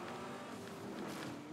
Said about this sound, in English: That's a racing truck, based off the sound.